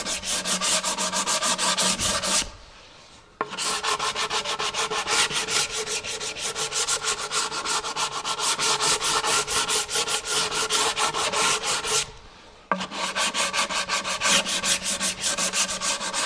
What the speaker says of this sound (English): And I go around and I sand that route that I just did.